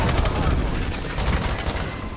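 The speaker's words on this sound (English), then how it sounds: "There's too many explosions." Dense gunfire and explosions rumble together in a Call of Duty: Advanced Warfare Hardpoint match, loud and continuous with no clear gaps, a chaotic wall of battle noise.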